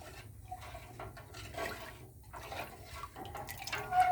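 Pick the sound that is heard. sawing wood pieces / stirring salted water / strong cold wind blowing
stirring salted water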